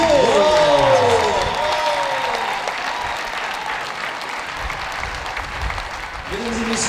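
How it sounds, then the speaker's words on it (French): Audience applause at the inauguration of a public aquatic center, steady crowd clapping throughout, with a brief musical or tonal sweep at the start and a voice faintly present under the noise. "Allez, on applaudit."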